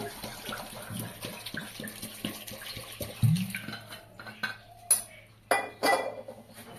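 Potatoes and water go into a pressure cooker, starting with a steady run of clinks and clatters, then a few louder knocks and splashy pours near the end, all close by and with no talk.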